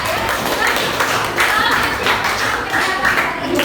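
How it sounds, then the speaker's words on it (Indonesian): A classroom group claps for a student named Cinta, a steady dense patter of many hands filling the whole moment, close and loud, with voices mixed in. "kasih tepuk tangan dulu buat Cinta"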